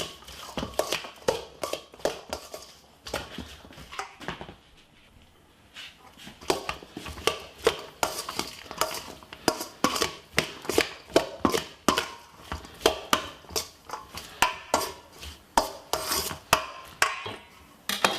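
Pasta salad being stirred with salad cream and mayonnaise, a run of rhythmic scraping and tapping strokes of a utensil against a bowl, close and steady with a brief lull partway through.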